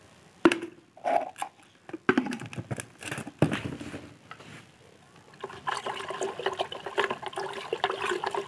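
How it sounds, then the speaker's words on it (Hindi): Clean water is poured into a gold recovery solution made from scrap mobile and computer circuits, giving irregular splashing and sloshing bursts that become a steady trickling pour toward the end. "हम साफ पानी ऐड कर लेते हैं ताकि सॉल्यूशन डाइल्यूट हो जाए"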